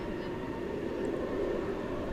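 A Delta airliner on its takeoff roll from runway 18 left at DFW Airport, a steady distant jet engine rumble with a low broadband roar holding even throughout, faint and far off.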